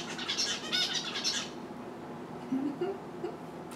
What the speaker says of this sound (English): If I pause, it's the bird.